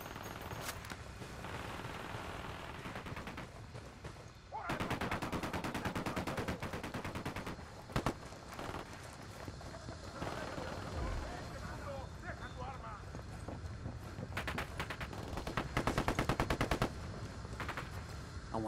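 Rapid automatic gunfire in Ghost Recon Wildlands, with long machine-gun bursts and dense volleys layered over background game noise. Voices speak at points during the firefight.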